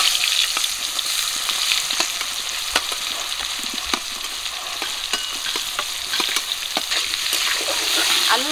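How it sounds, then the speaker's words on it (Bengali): Jackfruit pieces fry in hot oil with a steady, loud sizzle and occasional stirring clicks, continuous from start to finish with no voices. "এবারে কাঁঠালটা ভেজে নেব।"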